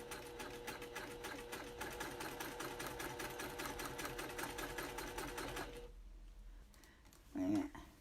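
Sewing machine stitching a tension test for machine quilting, a steady fast rhythmic clatter that runs loud for about six seconds, then stops, followed by a brief voice near the end.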